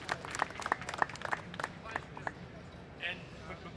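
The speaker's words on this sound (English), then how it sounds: "if I could just ask for a quick round of applause for that" A small audience gives a quick round of applause with distinct, separate claps, loudest at first, then thinning into scattered claps and room murmur.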